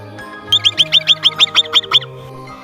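A marmot calls in a quick series of about eleven sharp, high chirps, evenly spaced and loud at close range, with no other sound.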